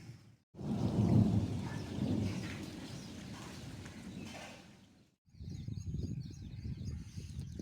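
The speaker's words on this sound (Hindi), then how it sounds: "बहुत ज़्यादा बारिश है।" Heavy rain in a village roars with low rumbling bursts, briefly cutting out before the downpour resumes, steady and close.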